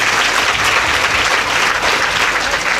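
Loud, steady applause from a large audience at a live Shrimad Devi Bhagwat Katha religious discourse, dense clapping sustained with no break throughout.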